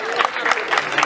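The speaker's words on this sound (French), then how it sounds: "Itecom, s'il vous plaît, applaudissez pour votre reine." A brief burst of crowd applause for Miss Itecom at a pageant-style event, loud and choppy, with voices mixed in under the clapping.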